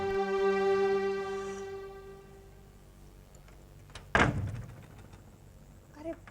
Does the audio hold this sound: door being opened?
yes